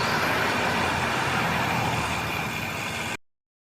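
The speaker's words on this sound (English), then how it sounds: "We never enjoy the sounds produced by horns of cars and trucks." Steady road traffic of cars and trucks rumbles at a moderate distance, a continuous wash of engine and tire noise with no distinct horn, ending abruptly.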